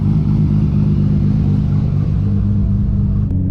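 A 1000+ wheel-horsepower MKIV Toyota Supra pulls away, its engine a loud, close, deep rumbling drone that holds steady, with a brief shift or dip near the end and no voices.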